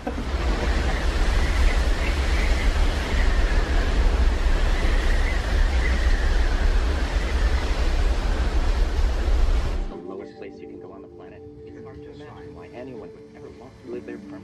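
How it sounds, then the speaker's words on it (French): Strong wind blows outside in Antarctica, a loud, roaring gusty rush buffeting the microphone for about ten seconds before it drops away abruptly to a quieter interior hum. "Il y a un peu de vent dehors."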